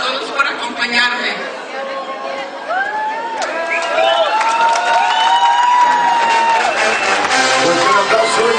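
A crowd at a family celebration with live banda music cheers and chatters loudly while scattered clapping breaks out and swells toward the end, with excited voices rising above it.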